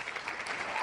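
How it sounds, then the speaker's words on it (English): Faint clapping at an online educator meetup, a brief thin patter of a few hands heard over a remote audio link. "Can you guys hear the clapping?"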